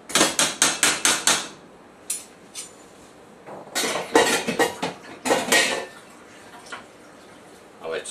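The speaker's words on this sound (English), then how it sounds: "Let's get a big scoop of this hamburger helper." A utensil scrapes and clanks in a pot while scooping Hamburger Helper, starting with a fast run of close metallic knocks and then giving way to irregular clinks and scrapes with pauses between them.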